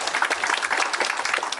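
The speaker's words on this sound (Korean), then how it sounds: "박수 한번 크게 부탁드립니다." An audience at a public hearing of the Korean Amateur Radio League claps steadily for a moment, dense even applause with no voices over it.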